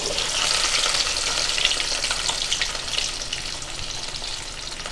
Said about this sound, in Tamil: எல்லாத்தையும் எண்ணெயில் நல்லா வதக்கிக்கலாங்க